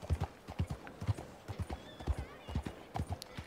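Horse galloping in Red Dead Redemption 2, a steady run of clip-clop hoofbeats in a fast rhythm, with a brief whinny partway through and no talk over it.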